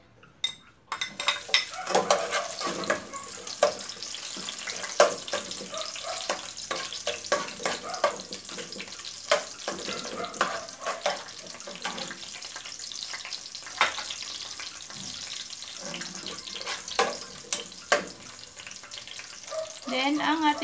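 Garlic sautéing in a pan while cooking Ilocano-style paksiw of pig's face, a steady sizzle with scattered clinks of utensil against cookware and faint water sounds, fairly close and continuous throughout.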